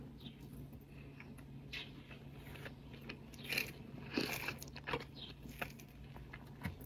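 Someone chews potato fry with paratha close up, giving quiet irregular crunches and mouth sounds against a faint background hum.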